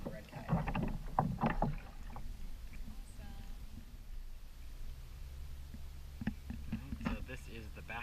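A kayak paddles along the back bay of Puerto Balandra with soft splashes and water dripping from the paddle, close and quiet, with brief bursts of talk near the start and end.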